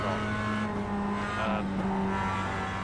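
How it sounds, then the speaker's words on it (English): A Mazda MX-5 engine revs hard in a racing video game on the Nürburgring Nordschleife, a loud, steady buzzing drone that rises and falls through downshifts, with faint tire squeal and no talking. "I've been heel towing to keep the revs up, as you can hear there as I shift down"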